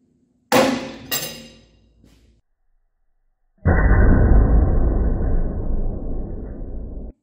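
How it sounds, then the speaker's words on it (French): A black powder cartridge case bursts inside a large crimping press: two sharp, loud bangs in quick succession that ring off briefly, then silence, followed by a sustained, dense rushing noise. "Donc résultat, la douille a complètement éclaté"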